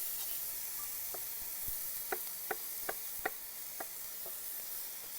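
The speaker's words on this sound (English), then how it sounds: "what I'm going to do is just pan fry that. Now then what I'll do is throw in my potatoes" Potatoes, softened beforehand, pan fry in oil as breakfast is cooked outdoors, giving a faint steady sizzle with a few sharp ticks and taps from the pan or utensil.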